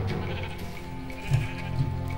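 Sheep in the Minecraft video game bleat twice in short calls over a steady hum of game background sound, with no talking.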